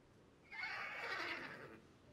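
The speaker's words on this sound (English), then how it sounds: "the miniature horse" Miniature horse in the video game Calico gives one clear whinny lasting over a second, bright and close, with faint ambient background and no talk.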